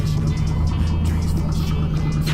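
BMW car engine idling at a car show, a close, steady low rumble with a constant throb throughout and faint background noise.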